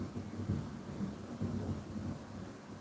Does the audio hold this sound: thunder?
yes